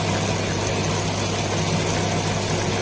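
A 40 cm waterbased gluing machine runs with its upper, middle and large lower rollers rotating, giving a steady, close mechanical hum with a constant low drone and no breaks.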